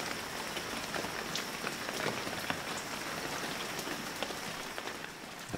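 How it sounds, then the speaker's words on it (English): Steady rainfall in the Shenmue 3 video game, a dense even patter of drops on surfaces with occasional sharper drips, continuous and moderately loud with no voices. "That beautiful rain."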